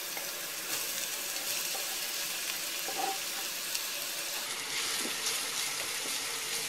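Onion frying in olive oil, a constant bright sizzle and crackle heard up close, with occasional light clinks and scrapes of a utensil in the pan.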